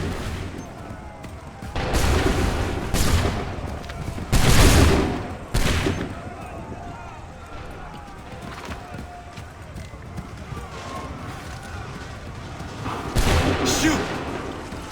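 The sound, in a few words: musket volley gunfire in Assassin's Creed III video game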